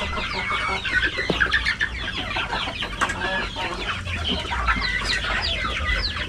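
A flock of chickens clucks and chatters continuously nearby, overlapping calls over a low background hum.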